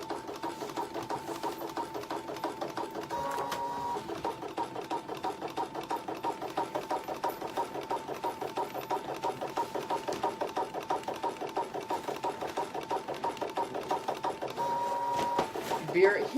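A Brother ScanNCut cutting machine scoring paper makes steady, rapid mechanical whirring and clicking throughout at moderate loudness, with a brief pause near the middle and a louder burst near the end.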